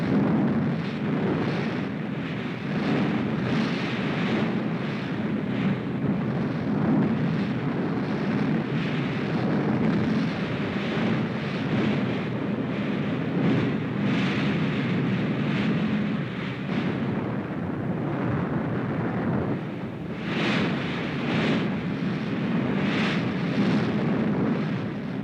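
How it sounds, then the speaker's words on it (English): Katyusha rocket guns fire in a Red Army offensive, giving a sustained roaring rumble of rocket launches and blasts. Loud and continuous, with no talk over it. "Rocket guns, Katyusha,"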